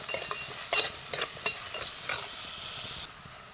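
Ginger sautéing in a pan while being stirred: steady sizzle with repeated scraping strokes of a spoon, close and moderately loud, no voices.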